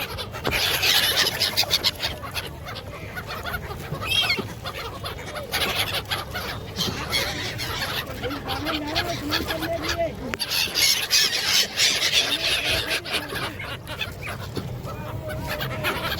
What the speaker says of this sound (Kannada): ನೋಡಿ ಎಷ್ಟು ಚೆನ್ನಾಗಿದೆ ಸೈಬೀರಿಯನ್ ಬರ್ಡ್ಸ್ ನಮ್ಮ ಜೊತೆಗೆ ಬರ್ತಾ ಇದೆ